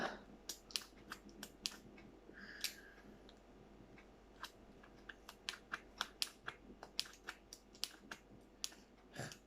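A pair of scissors poorly suited to the material snips while a Halloween boo box is being made, giving a quiet, close run of sharp, irregular clicks and cuts.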